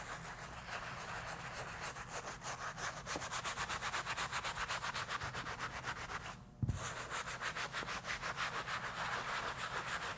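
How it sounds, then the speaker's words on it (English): Steady brisk scrubbing of an Off-White sneaker, a rhythmic circular rubbing that repeats several times a second, close and fairly quiet, with one brief knock midway and no talking. "Scrub in a circular motion, making sure you lift up all the dirt."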